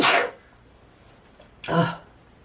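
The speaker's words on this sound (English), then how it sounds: "I think I'm going to sneeze." Two sharp, breathy bursts about a second and a half apart, like a sneeze and its follow-up, close to the listener.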